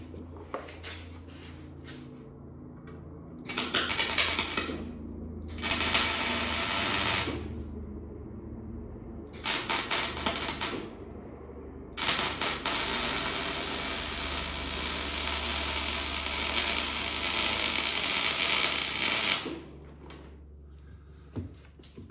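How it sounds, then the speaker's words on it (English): A new fuel tank being welded onto a homemade diesel electric submarine gives off bursts of harsh crackling buzz, several short runs then one long one, close and loud, separated by quieter shop hum. "let's weld her on."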